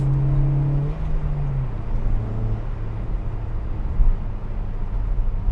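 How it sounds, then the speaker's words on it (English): Skoda Octavia vRS Gen 1 with an aftermarket exhaust, heard from inside while driving: a steady, fairly loud engine drone with a falling tone early on, continuous throughout with no talking. "The exhaust on this, obviously, it's a little louder than the stock exhaust"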